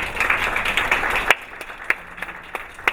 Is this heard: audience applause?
yes